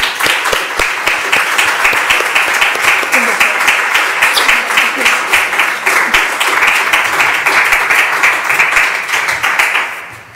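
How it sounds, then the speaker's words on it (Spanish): Audience at a university lecture on feminist genealogy applauding the speaker Elena, dense sustained clapping from a roomful of people lasting about ten seconds before tapering off at the end. "un aplauso para Elena"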